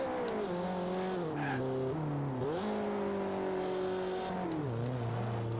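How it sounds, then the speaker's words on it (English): A Fast and Furious pack car in Forza Horizon 2 drones steadily at low revs, its engine pitch stepping up and down through gear changes, with faint tire noise in the background. "In the low revs, I think it sounds just perfect."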